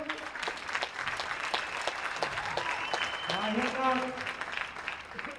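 Audience in an indoor horse arena, Ölfushöll, clapping for a man, a continuous moderate applause under talk that carries through.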